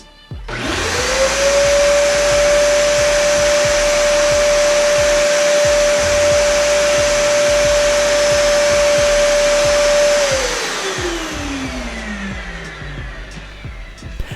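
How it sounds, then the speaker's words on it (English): A Dyson Animal Ball Plus vacuum cleaner spins up with a rising whine, roars loudly and steadily for about nine seconds, then winds down as the motor slows, heard close and alone. "I'm going to fire up my Dyson Animal Ball Plus, also from Costco"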